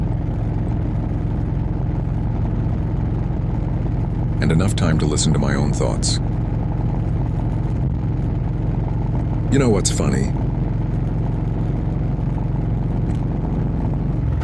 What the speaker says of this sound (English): Just a motorcycle.